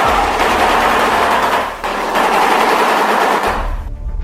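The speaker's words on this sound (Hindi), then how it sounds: "सबसे पहले शोबिल जब भी अपना मुंह खोलते हैं तो लगता है कि" A shoebill clatters its bill in a loud, rapid burst like machine-gun fire, with a brief pause before another sustained clattering run.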